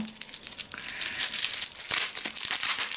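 Close, dry crinkling and tearing scratches of packing tape on a parcel being picked at with a fingernail and pulled loose, irregular little bursts with brief pauses.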